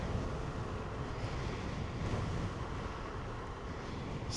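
A strong headwind buffets the rider of an MS Energy Urban X electric scooter travelling at about 45 km/h, a loud, constant rumbling roar of wind across the microphone with no voices.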